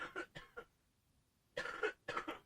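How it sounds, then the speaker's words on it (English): Several sharp coughs in two bursts separated by a short silence, close and fairly loud, with no talking. "Good strong cough."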